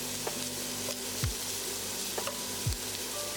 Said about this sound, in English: You're going to cook the shrimp for about 3 minutes on each side until they have changed color.